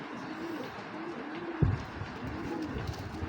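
Racing pigeons, including a grizzle hen, coo in soft, repeated throaty rolls over a steady background murmur of a loft, with one brief louder thump partway through.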